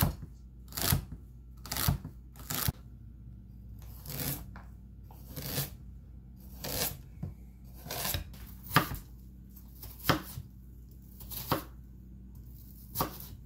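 A knife chops half an onion and a garlic clove on a cutting board for lentil soup, crisp close chops in short bursts with pauses between, irregular but steady, with no talking over them.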